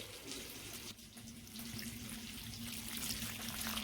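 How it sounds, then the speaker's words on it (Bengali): Water poured into rice flour and mixed, a faint continuous trickling wash with a low steady hum underneath, rising a little toward the end, no talk. "জল দিয়ে নিলাম এখন জল দিয়ে গুলে দেখি ভালো করে"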